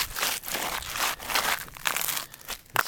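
Crunching steps on icy ground scattered with salt and sand during a February ice storm, a steady run of gritty crackles close by.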